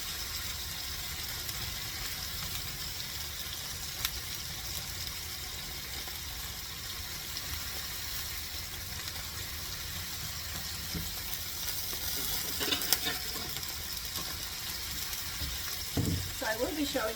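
Three-meat hamburger patties containing pork fry in a pan, with a steady, low, even sizzle throughout and a few faint clicks and knocks near the end.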